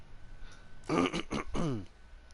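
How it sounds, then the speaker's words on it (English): A single throaty clearing sound, short and close, rising out of quiet room noise. "I'm sorry if I'm clearing my throat a lot"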